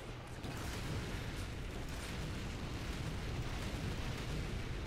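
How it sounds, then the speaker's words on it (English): Mortar strike explosions from Call of Duty: Ghosts Extinction mode roll out as a continuous, dense rumbling barrage, loud and sustained with no distinct gaps, and no talking over it. "I just got this mortar strike in just to waste it"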